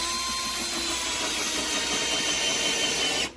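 A Milwaukee M12 drill on its first setting bores into a workpiece with a steady whirring drone, close and continuous, before stopping abruptly at the end.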